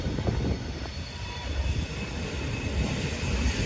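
A long coal train hauled by three G-class locomotives rumbles steadily past nearby, with continuous heavy rolling noise and faint metallic wheel rattle throughout.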